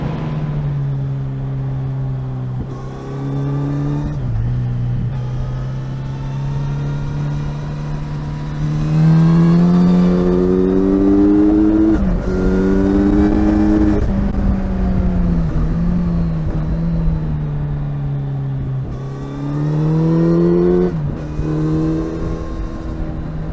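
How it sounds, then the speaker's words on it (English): A Kawasaki Z900RS motorcycle idles with a deep exhaust burble, then is revved repeatedly, each blip rising into a louder, throaty roar and falling back to idle, heard close and on its own. "I love the power, I love the handling, and well, just listen to this."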